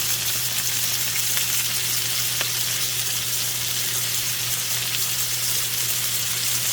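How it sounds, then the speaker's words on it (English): Onions saute on a hot griddle beside turkey smash burgers, giving off a loud, continuous sizzle that holds steady throughout. "I want to put the onions on that side so I can actually start sauteing those onions"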